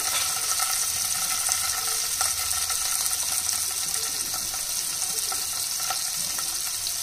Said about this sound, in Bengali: তেলটা গরম হয়ে এলে দিয়ে দিলাম একটু 5 ফোড়ন, দিয়ে দিলাম 1 টিস্পুন কাঁচা লঙ্কা বাটা